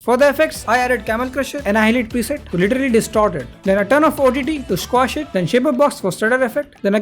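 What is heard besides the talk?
No everyday noises stand out.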